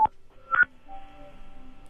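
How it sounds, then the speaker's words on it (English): iPhone tones: a few short bright beeps near the start, followed by a softer sustained warbling tone pattern, fairly clear and alone. "Listen to Jimmy's phone"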